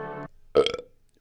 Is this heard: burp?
yes